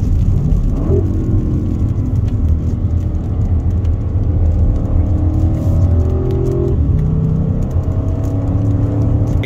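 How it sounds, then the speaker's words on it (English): An Audi RS6 Sledgehammer driving on a wet race track in the rain, a loud, steady engine drone with rising and falling pitch sweeps as it accelerates and shifts, heard close throughout. "So first time getting the RS6 out on the track"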